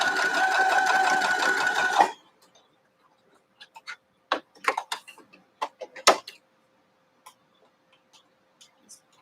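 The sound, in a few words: sewing machine stitching quilt pieces with a 1/4 inch foot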